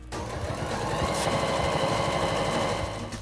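A sewing machine runs a long continuous stitch down folded backpack straps. A close, loud, even mechanical whir with a rapid needle rhythm lasts the whole moment, with no voices.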